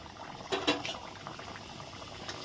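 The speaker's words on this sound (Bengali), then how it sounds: "এখন ভেজে নেব।" A potato mughlai paratha frying in hot oil gives a faint, bubbling sizzle with a couple of brief louder crackles early on.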